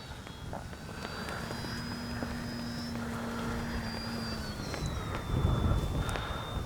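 A small H-King Kitfox RC model plane with long wings flies overhead, its electric motor drone rising and falling in pitch as it passes, steady and moderately loud over outdoor wind noise, with no talking.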